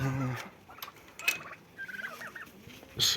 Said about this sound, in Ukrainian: От у нас є тут індики.